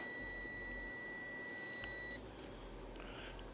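Multimeter continuity beep on a Hyundai sensor: a steady high electronic tone that holds for about two seconds and then cuts out, leaving faint background noise.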